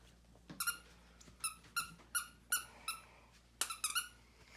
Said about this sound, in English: So Miracle got these little peep squeaky toys.